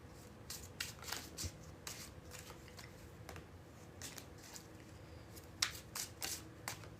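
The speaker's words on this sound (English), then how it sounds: "And here it was, the bridge shuffle." Soft, close riffling of a deck of playing cards being bridge-shuffled in several quick bursts, with brief pauses between the crisp flicks.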